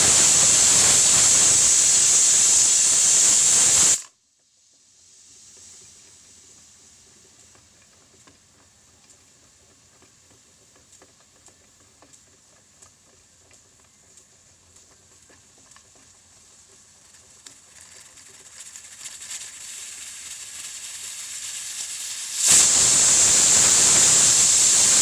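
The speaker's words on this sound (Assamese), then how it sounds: "কুকাৰটোৱে 4টা চিটি মাৰিছে।" A pressure cooker steaming fish lets out a loud, high whistling hiss, stops abruptly, gives way to quiet bubbling and faint hissing that slowly builds, then bursts into a loud whistle again at the end.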